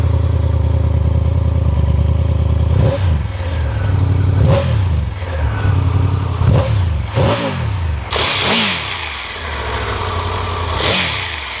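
Triumph Tiger 1200 GT Pro motorcycle engine cranks and fires, then settles into a steady idle broken by a series of sharp throttle blips, each rising and falling in pitch, loud and close with no talk.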